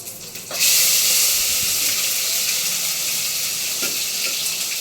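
Chopped tomatoes and potatoes hit a hot pan for a cluster bean and potato curry, bursting into a loud, steady frying hiss after a brief quiet moment and sizzling evenly throughout.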